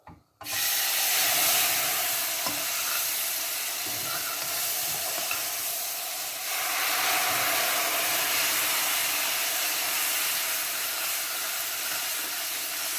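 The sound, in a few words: water poured into hot toasted semolina, sizzling while stirred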